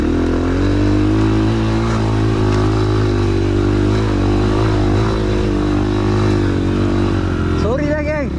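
An underpowered motorbike engine drones loudly and close with uneven revving swells, struggling to build power on a forest expedition, with a voice briefly speaking near the end.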